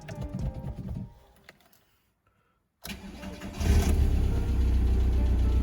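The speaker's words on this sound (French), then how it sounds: "je vais te montrer et te prouver que cette auto tourne correctement" A car engine is shut off and goes quiet, then the starter cranks and the engine catches, settling into a loud, steady running idle close by.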